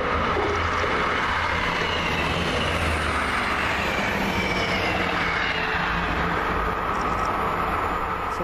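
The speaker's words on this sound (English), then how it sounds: "So I saw the class 60." A Class 60 locomotive passes on the South West Main Line, a loud, continuous broadband rumble and roar with steady low engine drone, close by and without talk.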